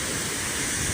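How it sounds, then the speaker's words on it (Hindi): Donchar Waterfall in Swat Valley gives off a steady, dense broadband roar of falling water, close and even with no breaks, heard briefly and alone. "ये वाटरफॉल है।"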